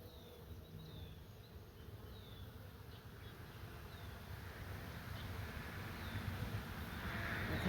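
Honeybees buzz inside an open beehive, a dense continuous hum that swells louder toward the end.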